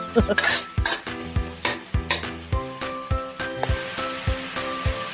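Ingredients for chaofan fried rice sauté, sizzling loudly in a hot pan while a utensil scrapes and clanks against the metal in quick, repeated strokes.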